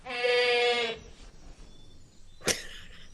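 A goat at a World War 2 secret agent training camp lets out one loud, wavering bleat lasting about a second, followed by quieter rustling and a short sharp noise close by.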